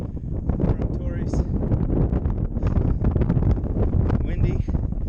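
Strong wind buffets the microphone in steady, roaring gusts on the summit of Torreys Peak, a Colorado fourteener, with rustling bursts throughout.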